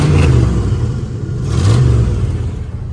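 Original Ford V8 in a 1969 Lincoln Continental revs up twice, each swell of engine rumble rising and falling close by, with no talk over it.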